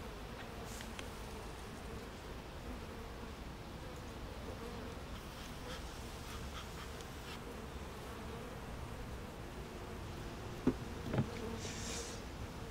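A honey bee colony hums steadily during a hive inspection, a close, even buzz with occasional nearer individual bees passing and a couple of faint knocks near the end.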